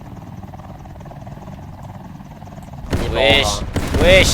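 A helicopter from a Roblox tank-combat game drones steadily as a continuous low rotor hum, then a voice shouts loudly over it near the end.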